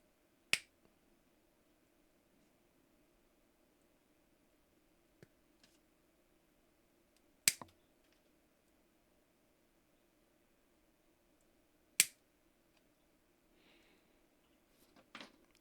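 A plastic L button on a DS Lite shell being cut, giving a few sharp, isolated snapping clicks spaced several seconds apart over a quiet, steady background hum.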